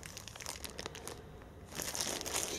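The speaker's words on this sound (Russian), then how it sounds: "Сейчас я эти эспандеры извлеку из пакета" A plastic bag crinkles and rustles up close as hand grippers are pulled out of it, with irregular crackling bursts that grow louder and denser toward the end.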